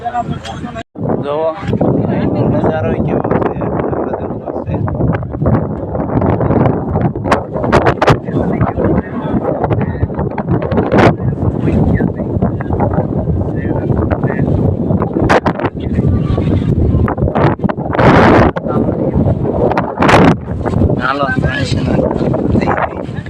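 Strong wind roars on the stone steps of Girnar mountain, buffeting the microphone in a loud, continuous rush with gusty peaks while a person talks over it.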